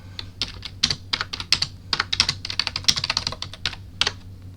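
Brisk, uneven typing on a computer keyboard while writing code, with clustered clicks and short pauses, close and clear with no talking, over a faint steady hum.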